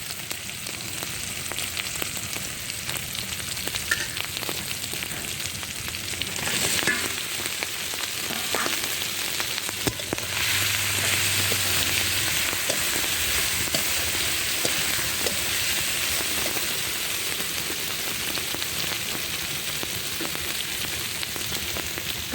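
Tiger prawns fry in spiced oil in a pan, a steady loud sizzle with occasional stirring clatters and a brief low thud partway through, heard alone without talk.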